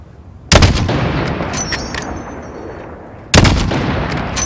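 Two sharp, loud rifle shots in Call of Duty: Modern Warfare (2019), fired at a target about 600 meters away. The shots come roughly three seconds apart, and each booming report rings out and decays over a low rumbling background.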